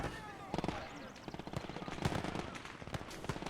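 An MG42 machine gun fires from down the road in the Gates of Hell: Ostfront WWII game, with rapid bursts of gunfire rattling fairly quietly in the distance amid other battle noise.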